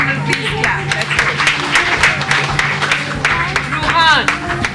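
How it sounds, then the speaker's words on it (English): Audience clapping for a performer at a Bombay Scottish School event, a ragged spatter of claps under crowd chatter and a voice, with a brief whistle-like squeal near the end. "Everyone will please clap."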